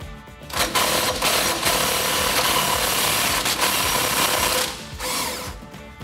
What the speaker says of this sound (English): So then we can run out this bolt with our 21 millimeter gun.